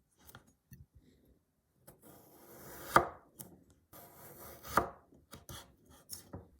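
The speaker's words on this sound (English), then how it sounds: "Cut the carrot into rings." A knife chops a carrot into rings on a cutting board in a series of uneven taps and cuts, close and fairly quiet, with no talking.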